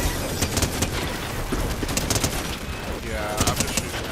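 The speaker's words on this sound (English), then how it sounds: "I'm just shooting at him." Fortnite gunfire crackles through the whole stretch, with repeated sharp shot bursts in clusters over a busy, dense game background. A faint voice-like sound appears briefly.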